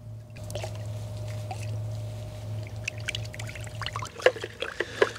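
Baking soda and organic leaf fertilizer get stirred into a gallon of warm water, giving a close sloshing, trickling swirl over a low steady hum, with a few sharper splashes and clinks near the end.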